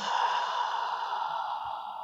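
A long, steady breath pushed out through the mouth during a Pilates exercise, a close, airy exhale lasting about two seconds with no talk over it.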